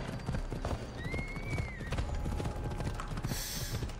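Horse hooves clip-clop at a steady trot in the video game Assassin's Creed Odyssey, loud and close, with a brief whinny and a faint mechanical whir partway through.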